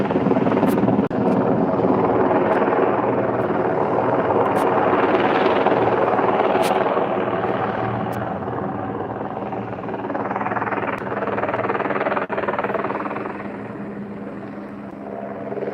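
A police helicopter hovers low over a farm, its steady loud rotor drone continuous and close throughout, swelling slightly midway, with faint brief clicks and no talking.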